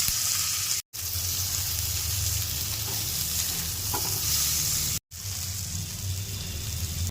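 Potatoes and pointed gourd sizzle in spiced oil for a wedding-style pointed gourd and prawn dish. The frying is loud, close and continuous, broken only by two brief cuts to silence.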